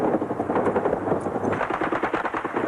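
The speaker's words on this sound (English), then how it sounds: "they came under furious gunfire from Palestinian" Sustained rapid gunfire crackles on a battlefront in Lebanon, dense bursts of automatic fire rattling continuously and loudly with no pauses, heard at moderate distance.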